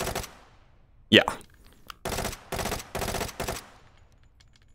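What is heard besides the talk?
SR3M rifle full-auto fire, from video game Hot Dogs, Horseshoes and Hand Grenades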